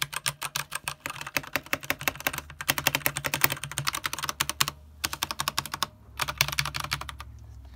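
Rapid typing on a mechanical keyboard with Gateron Brown tactile switches, dense clacking keystrokes in quick bursts with two brief pauses, close and clear, no voices.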